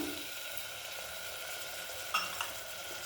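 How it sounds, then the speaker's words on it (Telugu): Tomato pieces land in ginger-garlic paste frying for mutton keema, raising a faint, steady sizzle in the pan with a couple of small clinks near the end. "ఇప్పుడు ఇందులో మనం టమాటా ముక్కలు వేసేద్దాం."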